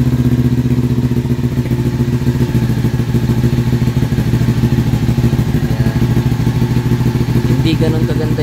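A Kawasaki Ninja 400 with a modified Apido exhaust idles loudly after a cold start, a steady, close, throbbing engine note that runs without a break throughout.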